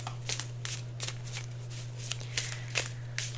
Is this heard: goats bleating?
no